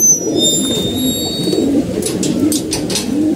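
Pigeons being bathed coo continuously in low, rolling murmurs close by, with bursts of splashing or rustling noise in the latter half.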